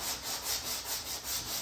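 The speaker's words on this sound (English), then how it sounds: "I'm just gonna go ahead and start sanding it on an X pattern." A flat sanding block is pushed back and forth by hand across a Jeep Grand Cherokee's car body in a crossing X pattern, giving close, rhythmic, raspy strokes about five times in under two seconds.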